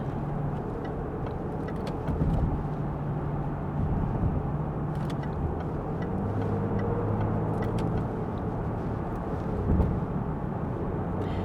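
A Range Rover Sport SDV6 HSE driving, heard from inside as a quiet, even low engine and road drone with a few slight swells in level and no voices.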